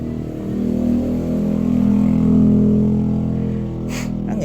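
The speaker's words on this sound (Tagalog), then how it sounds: "Ang ingay ng motorsiklo" Noisy motorcycle engine going by, a loud mid-pitched drone that swells and peaks midway, then fades slightly, with a brief higher clatter near the end.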